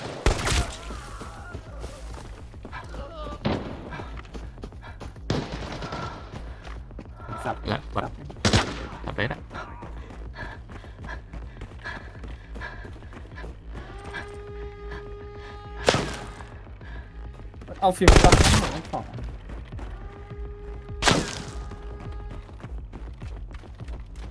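Gunfire in the Arena Breakout Infinite shooter game, an AK12 rifle among them: scattered single shots and short bursts, a few loud close blasts standing out over game ambience and speech.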